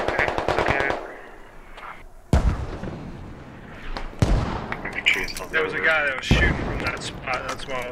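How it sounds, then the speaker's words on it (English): Bursts of machine-gun fire and single gunshots crack loudly in an urban warfare video game, rapid rattling volleys with sudden heavy reports, while players talk over the shooting. "He's shooting from the minaret, so his tracers were going right past me."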